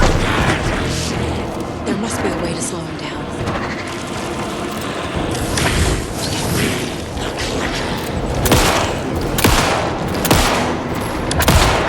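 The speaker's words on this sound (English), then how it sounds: "that's right, I can actually shoot" Gunfire in the video game Alan Wake 2, dense repeated shots and booms layered over a loud, busy game soundscape, with a voice talking over it.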